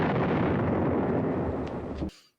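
A grenade explodes in the 1957 war film Paths of Glory: a loud, roaring blast that rumbles for about two seconds before cutting off abruptly.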